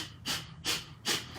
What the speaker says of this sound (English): forcefully blowing my nose on the exhale through both nostrils